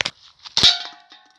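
A Beretta M92 BB gun fired in semi-automatic mode: a few sharp, metallic cracking snaps close by, with a brief ringing tail after the loudest shot, and no talk.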